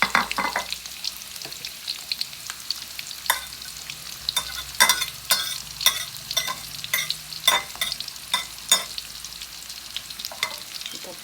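Shallots sautéing in a pan for Coto Makassar, a steady frying sizzle broken by repeated sharp scrapes and clacks of a utensil stirring against the pan, close and fairly loud, with no voices.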